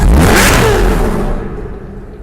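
A Chevrolet Corvette ZR1 with a supercharged V8 revs hard in the Need for Speed video game, a loud close roar that rises and then fades away as the car pulls off.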